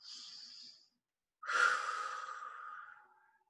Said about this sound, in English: just take a couple of deep breaths.